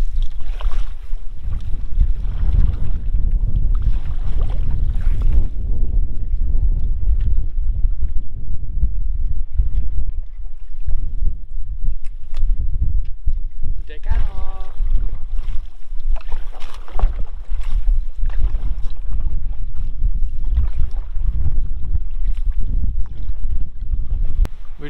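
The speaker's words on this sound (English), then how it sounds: "You can just hear the wind howling" Strong wind gusting across a wilderness lake during a spring snowstorm trip, heavy rumbling buffets on the microphone with choppy water, and someone speaks briefly.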